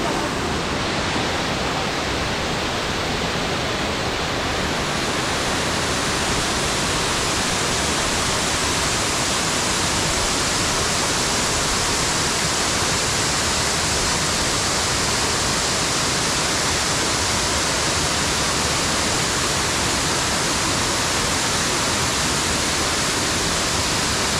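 Ramsey Cascades waterfall in the Great Smoky Mountains, a loud, dense, unbroken roar of falling water heard close by for the whole stretch.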